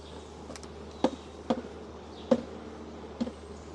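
Bees drone steadily around an open hive as frames are rearranged, with several sharp wooden knocks and taps from hive parts punctuating the buzz.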